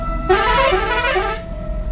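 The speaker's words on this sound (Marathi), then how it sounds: "मी आता हॉर्न बसवला आहे" A newly installed truck horn gives one loud, sustained blast of about a second, harsh and multi-toned, close up over a low engine rumble.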